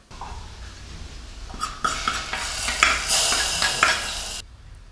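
Mustard seeds and dried red chillies tempering in hot coconut oil for idichakka sambar, a close sizzle that swells into a bright, crackling burst of spattering before cutting off abruptly.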